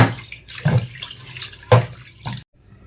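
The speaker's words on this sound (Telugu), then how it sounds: "పప్పు అయితే కడిగేసుకున్నానండి" Toor dal and chana dal being washed in water for sambar, with close sloshing and swishing bursts as the lentils are rubbed and rinsed, then a sudden stop.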